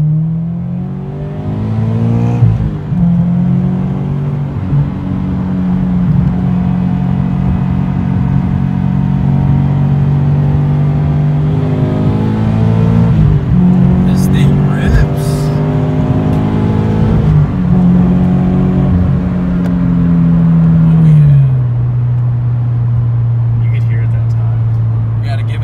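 A boosted Toyota FRS accelerates hard up an on-ramp. The engine note climbs steadily through several gears, with a clear drop at each shift, and stays loud and close the whole time while people talk over it.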